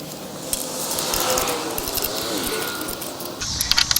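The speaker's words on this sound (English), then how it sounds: "So we've got the 4 bolts started at the bottom. Get these tightened down." Metallic clinks and jangles of tools and bolts while the mounting bolts on a wheel-hoe sickle mower attachment are tightened, a steady close-up rattle of small metal contacts with sharper taps near the end.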